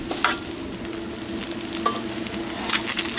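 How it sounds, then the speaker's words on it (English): A just-flipped omelette sizzles steadily in a frying pan, close and even, with a few soft clicks from the utensil against the pan. "it's time to flip it. The omelette."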